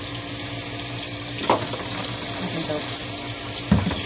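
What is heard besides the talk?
water running from a tap into a sink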